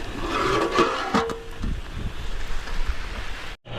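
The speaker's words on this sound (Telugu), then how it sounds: "రైన్ చాలా దారుణంగా పడ్డది" Heavy rain pours down outdoors in a mountain valley, a steady broadband hiss with some gusty wind noise, staying loud and continuous throughout before briefly cutting out near the end.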